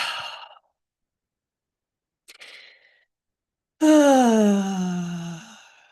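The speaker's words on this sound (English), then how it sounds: "Let's take a deep breath, okay? Another deep breath." A person takes deep breaths up close: a short breathy exhale, a quiet pause, a brief intake of air, then a long, loud, voiced sighing release that fades gradually.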